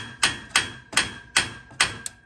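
A hammer taps a frame into position for a drop-in side burner cutout in an outdoor BBQ island, five sharp, evenly spaced knocks followed by a lighter sixth tap, close and clear with no voices.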